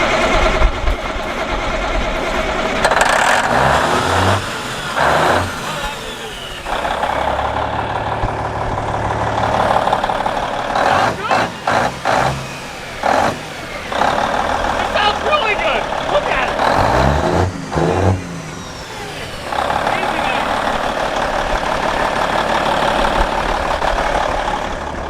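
A Peterbilt 379 semi truck's large diesel engine cranks, catches and runs with a heavy rumble, revving up and down repeatedly while people talk over it.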